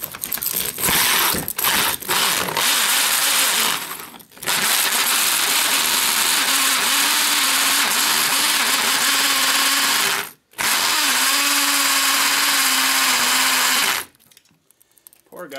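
A 2 inch Milwaukee hole saw drills through metal foundry plate, a loud, harsh, continuous grinding screech with a wavering pitch, broken by a few short pauses where the cut stops and restarts.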